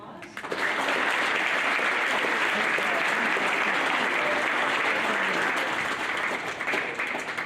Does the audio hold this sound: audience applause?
yes